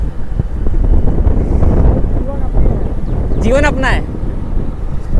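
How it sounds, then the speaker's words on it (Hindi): Wind buffets a clip-on microphone on a motorbike riding along an empty road, a loud steady rumble that runs throughout with a voice talking over it. "नॉर्मली भी अगर हम खड़े हैं तो नॉर्मल हवा है, कोई बहुत तेज नहीं है।"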